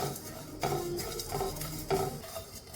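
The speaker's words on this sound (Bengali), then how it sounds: "এবারে আমি একটা মশলা ভেজে নেব" Whole coriander, fennel, white cumin and black pepper dry-roasting in a pan, with a few sharp scraping stirs against the metal in a steady rhythm and a faint rattle of seeds between strokes, no talking.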